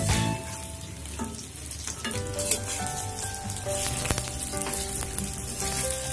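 Sabudana (tapioca pearls) frying slowly in hot oil, a steady close sizzle with a few sharp crackles and pops over the top, continuous throughout with no voices.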